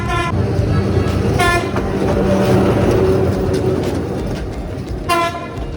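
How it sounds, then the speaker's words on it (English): A train passes close by in Hanoi, Vietnam, its horn sounding several short blasts over a continuous rumble and clatter of wagons rolling along the track. "We were lucky enough to catch another train which was running late before we left."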